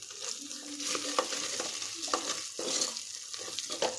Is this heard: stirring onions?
yes